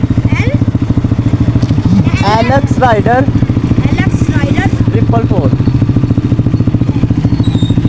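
A modified Honda CBF motorcycle, its engine recently smoking and due for an oil change, runs at a steady, loud idle throughout, with a continuous low throbbing drone while someone talks over it.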